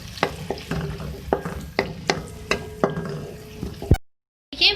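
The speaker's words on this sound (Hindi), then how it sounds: "अब मेरे पास ऑयल है, इसमें 2 मीडियम साइज़ की प्याज ऐड करूँगी। इसको फ्राई करके और इसको निकाल लेंगे।" Two medium onions fry in hot oil with a steady sizzle and a regular beat of stirring scrapes, then the sound cuts off abruptly near the end.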